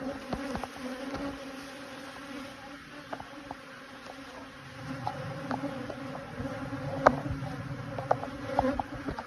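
Quiet, continuous buzzing of honeybees close by around a hive box, with individual bees zipping past now and then over a steady insect hum.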